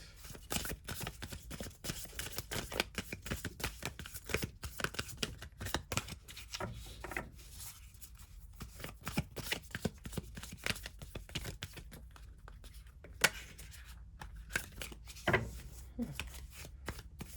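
A new deck of tarot-style cards being shuffled, steady soft riffling and flicking close up that runs throughout with brief pauses.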